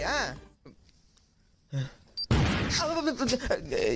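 A Diwali firecracker goes off with a sudden, sharp, loud bang, followed by people talking over noisy festive background sound.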